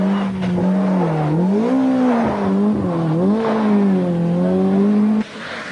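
Toyota rally car on a stage of the British Midland Ulster Rally, its engine note rising and falling continuously as it revs through gears, loud and close with a steady engine drone throughout.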